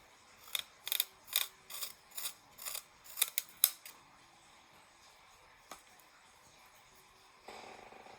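A watercolor pencil sharpened in a small hand sharpener: a close, quiet run of rhythmic scraping twists for a few seconds, then near silence with a faint rustle at the end.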